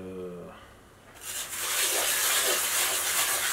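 Steady, close rubbing and sanding on a diorama surface, a continuous gritty hiss that starts abruptly and holds without pause, after a brief moment of quieter sound.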